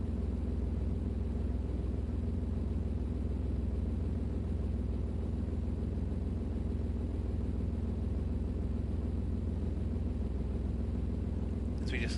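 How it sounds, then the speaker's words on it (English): A Ferrari race car in Gran Turismo Sport gives off a constant low engine rumble that stays steady and dense, with faint commentary voices beneath it. "As we just listen to the rumble of that Ferrari engine."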